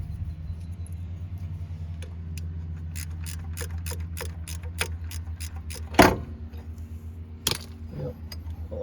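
A ratchet works loose the alternator bolts on a 2000–2005 Dodge Neon, a series of sharp, evenly spaced clicks over a low engine-bay hum, punctuated by a couple of louder metallic clunks.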